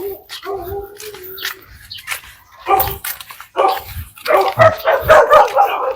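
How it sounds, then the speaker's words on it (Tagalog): Pet dogs at a family home bark, yip and whimper close by in short, irregular bursts that grow busier toward the end, with some talking mixed in. "Meron silang alagang aso mga kababayan"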